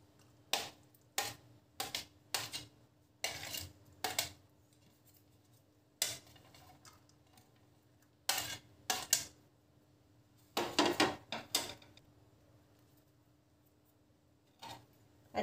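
Vegetables are tossed and mixed in a bowl, heard as a series of short, sharp clacks and scrapes of a utensil against the bowl in irregular bursts separated by quiet pauses, close but fairly faint.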